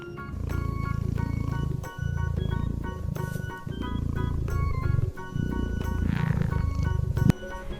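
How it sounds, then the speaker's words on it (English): A farm cat purrs in a steady, rumbling drone, close and continuous, with brief breaks between purring breaths and a faint higher note near the end. "This is a cat."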